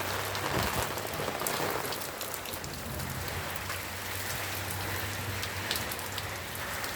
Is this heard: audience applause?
no